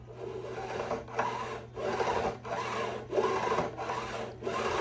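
A metal file rasps across a guitar fret, metal on metal, in five even back-and-forth strokes with short pauses between them, close and moderately loud under a faint steady hum.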